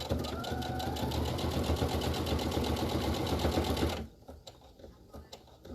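A sewing machine stitches a mat in a fast, steady, close mechanical whir of rapid needle strokes for about four seconds, then stops, leaving faint handling clicks and rustles.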